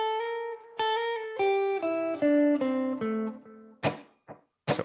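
Guitar pentatonic lick played with chromatic mordant ornaments, a run of clear plucked notes stepping downward, followed by a few sharp percussive string hits.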